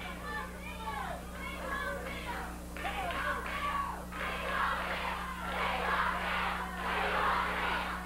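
Wrestling arena crowd hollering a chant in unison, rising and falling in rhythmic surges over about eight seconds, loud and somewhat distant, with a steady low hum underneath.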